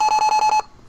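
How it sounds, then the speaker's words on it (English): A Datalogic Magellan scale entering calibration mode emits a rapid series of six identical, loud electronic beeps at an even rhythm, then falls silent. "You will hear a long set of beeps."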